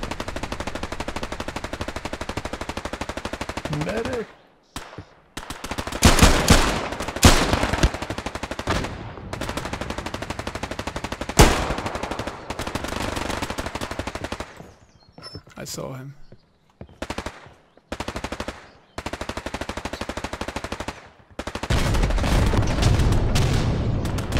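An MG42 machine gun fires from a bunker during Hell Let Loose gameplay, with long, loud, close bursts of rapid fire broken by short pauses, plus scattered booms and distant gunfire. Voices talk over the shooting at times.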